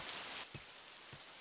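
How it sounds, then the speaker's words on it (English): Steady rain falls in a quiet, even hiss, broken by two soft low thumps of drops striking a surface. "It looks like the rain won't stop anytime soon."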